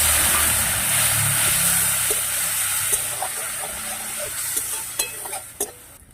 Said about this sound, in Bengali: শুকনো মশলাগুলো কিছুটা ভাজা হয়ে গেছে